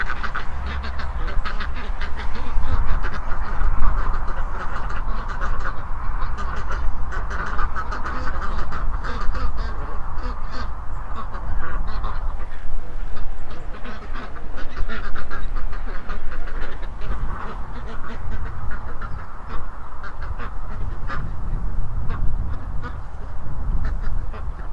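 A flock of farmyard ducks quacks continuously and loudly over a steady outdoor noise bed, with many overlapping calls close by and no pause throughout.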